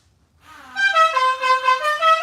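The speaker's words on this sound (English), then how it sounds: "Let's go honk the horn, Sammy." A car horn sounds close and loud after a short silence, holding as one sustained blare with slight wavering pulses in level until the end.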